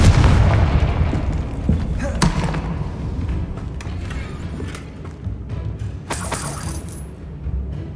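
Game-world Confringo explosive spell blasts from Hogwarts Legacy: sharp booming impacts with crackling bursts, loud and close, a couple of distinct blasts amid ambient rumble.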